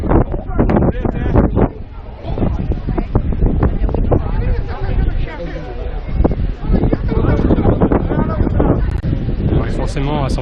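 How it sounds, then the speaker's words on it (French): Gusty wind buffets the microphone outdoors in San Francisco near Lombard Street, a rough low rumble that rises and falls throughout, mixed with nearby voices and crowd babble. "Forcément à San Francisco il y a du vent aussi."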